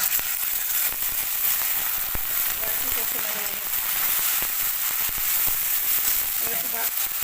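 Ginger-garlic paste, cumin powder and chili powder fry in hot oil over browned onions for a fish curry, giving a continuous bright sizzle with occasional stirring clicks and a faint voice underneath.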